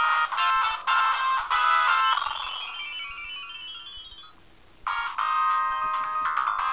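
Sonic 2 music and sound effects from a handheld Sega Mega Drive (Blaze / ATGames / Firecore) with poor, harsh sound emulation: bright, tinny chiptune melody and beeps, a gliding effect midway, a brief quieter gap, then the loud music returns, no talking.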